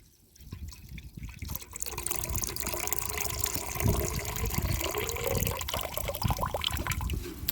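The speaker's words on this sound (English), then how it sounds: "Here, I'm going to tip it and pour it in." Maple sap tipped from a collection bag and poured into a container outdoors, a steady gurgling stream of liquid that starts suddenly and keeps flowing with small splashes.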